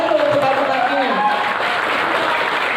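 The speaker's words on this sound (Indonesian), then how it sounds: "tepuk tangan dulu untuk bupatinya." Audience at a Lampung Barat arts performance applauds the regent, a dense continuous patter of clapping heard under a voice speaking over a microphone.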